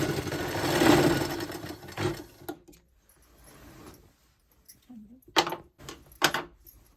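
Sewing machine stitching a baby quilt: a loud stitching run at the start, then short bursts of machine noise with quiet gaps between.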